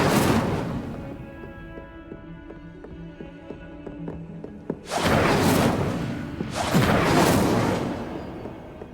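A fire spell cast in the Hogwarts Legacy video game erupts in two loud whooshing bursts of flame, each swelling for about a second over a low, steady game soundscape with faint tapping.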